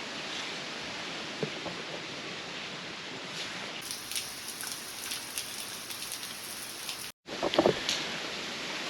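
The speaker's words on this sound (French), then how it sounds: "Là il pleut à torrent, du coup on va démarrer sous la pluie" Heavy rain pours steadily on Madeira at the start of a hike, a dense continuous hiss with scattered drop impacts up close, briefly cut off near the end.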